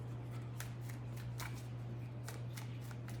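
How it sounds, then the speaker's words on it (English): Tarot cards are shuffled in quick riffling bursts, crisp papery flutters repeating several times over a steady low electrical hum. "Too many cards. One more shuffle."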